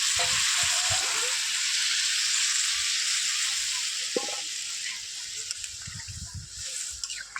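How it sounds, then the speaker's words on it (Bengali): Boiled water poured into a pan of frying vegetables for a fish recipe, a loud steady hiss and sizzle throughout, with faint stirring clinks and light scrapes toward the end. "সিদ্ধ করা জলটা এবার সবজির মধ্যে ঢেলে দেব"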